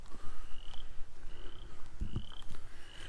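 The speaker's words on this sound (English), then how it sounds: "Can you hear the frogs?" Frogs croak at a junkyard with old Mustangs and other classic cars, their call rising as repeated drawn-out trills that come and go across the clip, moderately near over an outdoor background with a couple of low thumps.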